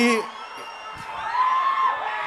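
An audience at a film song launch event whoops, yells and cheers loudly, a sustained wash of shouting voices close by.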